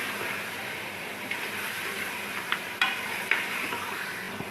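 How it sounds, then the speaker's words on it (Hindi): Mutton chops sautéing in a pan for an Eid-style salan, giving a steady low frying sizzle with a few faint stirring clinks, continuous and fairly quiet throughout. "ये 2 से 4 मिनट हम इसको इसी तरह भूनेंगे ताकि इसकी रंगत इसकी तरह से चेंज हो जाए।"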